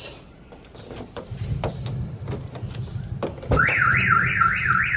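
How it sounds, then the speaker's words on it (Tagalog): A car alarm starts up with a loud, rapidly warbling electronic siren after some clicking and handling noises. "ito is merong anti-theft alarm"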